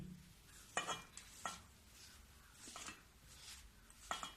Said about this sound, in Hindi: अब इसको मैं अच्छे से मिलाऊंगी।